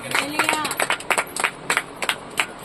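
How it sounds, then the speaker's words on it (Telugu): A church congregation claps loudly during a sermon, with rapid rhythmic hand claps close up, mixed with a few raised voices. "చప్పట్లు కొట్టి బిగ్గరగా."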